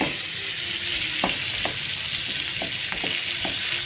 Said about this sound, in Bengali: পটল আর আলুটা একবারেই দিয়ে দিয়েছি কড়াইতে